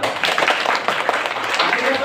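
A group of adults in a teacher training class claps together, dense rhythmic applause mixed with voices talking over it, close and steady throughout.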